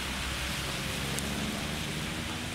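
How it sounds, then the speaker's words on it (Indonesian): Heavy rain pours over the town of Singaraja, a dense, steady hiss of water hammering down without a break, loud and close, with no voices. "Hujan deras yang mengguyur kota Singaraja selama 1 jam"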